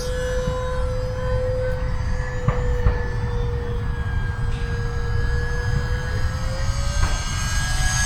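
An E-flite UMX Gee Bee R-2 electric RC plane making a fast inverted pass, its high motor whine steady and fairly loud with a slight pitch drop as it goes by, over constant outdoor wind noise.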